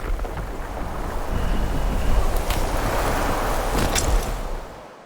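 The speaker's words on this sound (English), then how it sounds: "And then we have this lead up wind to the next scene." A continuous rushing wind swells and roars with a deep rumble, a few gusty peaks rising before it fades away at the end.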